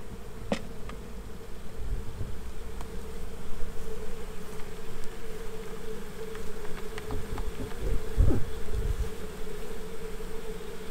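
Honey bees buzz in a steady, loud drone while being rolled in powdered sugar during a sugar shake, with a dull knock of the container partway through.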